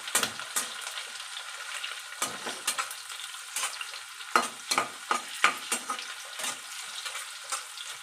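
Onion fries in a pan as it is stirred, with a soft, steady sizzle broken by repeated brisk scraping strokes of a spoon at an uneven rhythm.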